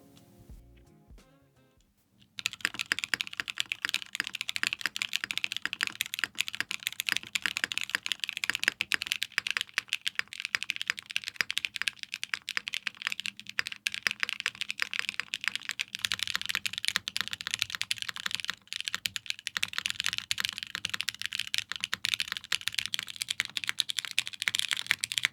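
Fast, steady typing on a KBDFans Tofu TKL keyboard with OP Black switches and PBTFans keycaps: dense clacking keystrokes run continuously and close for over twenty seconds after a brief quiet start.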